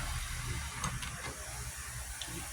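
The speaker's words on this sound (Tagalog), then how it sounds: "Guys, kumukulo na siya." A pot of sinigang broth comes to a boil before the milkfish is added, giving a faint, steady hiss and soft bubbling with occasional small ticks and no talk.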